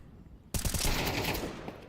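A burst of rapid automatic rifle fire erupts abruptly after a short quiet lead-in during a Counter-Strike match, a loud, dense spray that rattles on before tapering slightly, with no voices.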